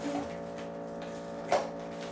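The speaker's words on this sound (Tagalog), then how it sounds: "Sobrang ingay talaga ng ref." A noisy refrigerator gives off a steady tonal hum that holds throughout, with a brief click or knock near the end.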